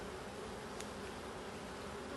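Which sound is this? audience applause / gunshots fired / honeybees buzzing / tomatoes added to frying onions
honeybees buzzing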